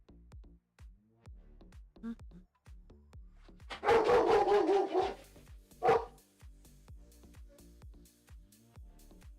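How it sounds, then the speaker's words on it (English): Several neighborhood dogs bark in bursts, a dense loud cluster near the middle and another shortly after, with fainter yips and barks scattered throughout against a quiet indoor background. "dogs are barking in the neighborhood"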